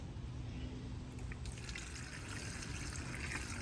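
Pink windshield washer fluid is poured from a bottle into a Scion FR-S, a soft, continuous trickle and gurgle of liquid heard fairly close at low level with no talk.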